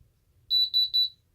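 An Ademco alarm keypad chiming for a fault 08 intrusion alarm: three quick, bright, evenly spaced electronic beeps, close and clear against near silence.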